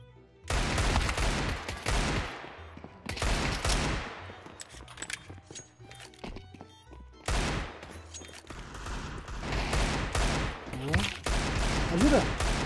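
Rapid bursts of Desert Eagle pistol fire in Counter-Strike 2 in several loud volleys, separated by brief quieter gaps with faint game sounds.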